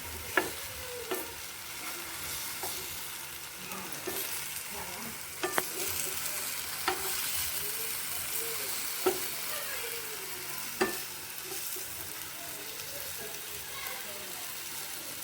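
Pieces of sweet banana dumpling frying in hot oil in a pan, a steady close sizzle running throughout with several sharp clinks and scrapes as they are turned over.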